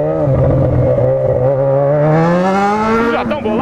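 A Yamaha XJ6 motorcycle with an open exhaust pipe revs loudly and continuously up close, its engine note holding steady and then climbing in pitch, with a brief rougher burst near the end.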